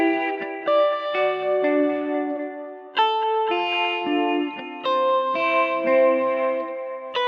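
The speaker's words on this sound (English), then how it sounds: "let's add some reverb" Sustained synth-like tones wash out into a reverberant tail, each chord change ringing on with a spacious, echoing decay.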